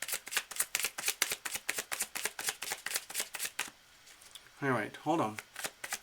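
Tarot cards being shuffled by hand, a rapid run of crisp riffling clicks in a steady rhythm, close up, followed by a brief spoken remark and a few more shuffling clicks.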